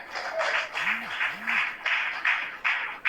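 Audience applause at a company event honouring the founder, a broad patter of clapping that swells and dips in waves over about three seconds, with a faint voice or tone briefly over it.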